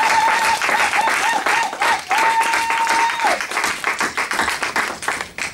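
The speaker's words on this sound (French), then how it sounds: "Est-ce qu'on peut acclamer très fort pour la gloire de Dieu?" A church congregation applauds and cheers loudly for several seconds, dense clapping with voices rising over it, fading into looser claps at the end.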